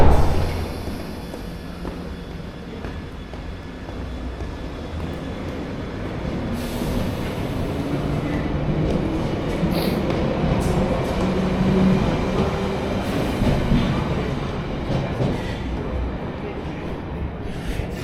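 A London Underground Piccadilly Line 1973 Stock train in cold weather rumbles steadily with low, continuous wheel and motor noise that builds slightly midway, with faint talk or station sounds mixed in.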